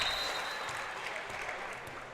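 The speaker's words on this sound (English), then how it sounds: "so they can get a round of applause here before the end of the match" Crowd applause at a girls' high school volleyball match honoring a senior player being substituted out, a steady wash of clapping through the whole span, moderately distant in a gym.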